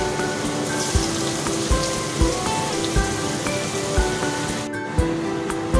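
Chopped onion sizzles in melted butter for a restaurant-style paneer butter masala, a steady, dense crackle and hiss like rain with light thumps recurring about once a second, close and alone.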